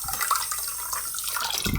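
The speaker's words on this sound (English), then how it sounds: "you can rinse it like this with the water as much as you want." Water splashes and trickles steadily while a K&N automotive air filter is rinsed, with light dripping and running liquid close by, fairly quiet with no voices.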